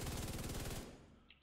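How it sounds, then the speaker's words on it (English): A light machine gun fires in The Division 2, a loud, very fast rattling burst of close shots for under a second, then a fading tail and a faint electronic chime. "I want to unload all my rounds. Rate of fire is insane."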